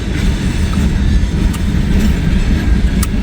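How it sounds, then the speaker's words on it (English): A freight train rolls past the Hamilton depot, a loud, continuous rumble of wheels and cars with faint rhythmic clicks and squeals, close by and without speech. "I hear another train"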